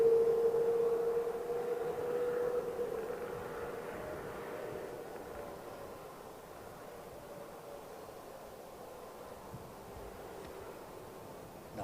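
An ANA Boeing 777 departing runway 27R at London Heathrow spools its engines up for takeoff. A steady, distant roar with a faint whining tone holds strongest at the start and eases slightly as it goes on, with no voices.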